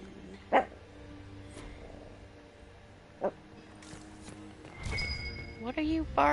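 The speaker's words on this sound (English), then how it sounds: "What are you barking at?" A dog barks in Dragon Age: Inquisition, a few sharp separate yips and barks spread across a few seconds over quiet game ambience, with voices talking near the end.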